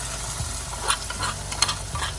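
Andhra-style tomato pickle bubbles and sizzles in a pan, making a soft, steady crackle with occasional louder pops and spoon-stirring scrapes, fairly quiet and without talk.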